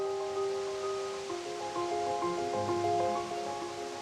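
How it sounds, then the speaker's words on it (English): Steady broadband rush of a 42-metre waterfall in Snowdonia, Wales, continuous and fairly distant, with faint tonal hum layered over it throughout. "Nothing says chilled quite like the sound of running water."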